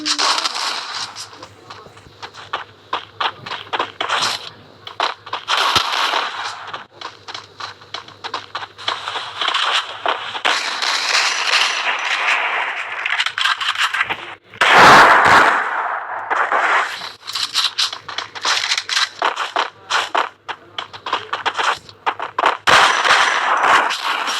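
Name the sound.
Desert Eagle gunfire in video game Free Fire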